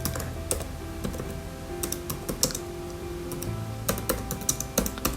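Fingers typing text on a computer keyboard, irregular bursts of crisp key clicks at close range, some quick runs and short pauses, no speech.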